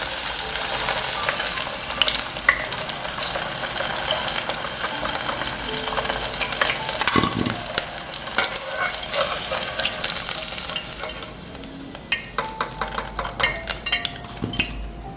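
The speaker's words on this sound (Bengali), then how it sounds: "প্রথমে মিডিয়াম ফ্লেমে রেখে 7 থেকে 10 মিনিট উল্টে পাল্টে ভাজবো।" Potatoes frying in oil over a medium flame, a steady sizzle under the clinks and scrapes of a utensil turning them in the pan, with sharper taps toward the end.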